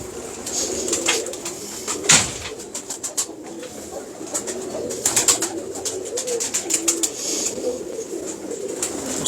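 Pigeons belonging to a breeder coo and call close by, with soft repeated coos, scattered chirps and a few sharper bursts over a steady background hiss.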